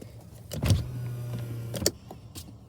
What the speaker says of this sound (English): open the emergency exit window